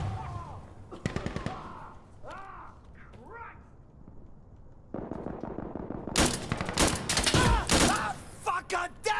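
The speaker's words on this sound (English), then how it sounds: "There's a machine gun right over there." Machine gun fire in Insurgency Sandstorm: rapid, loud bursts break out in the second half after a quieter stretch of scattered shots and cawing crow-like bird calls.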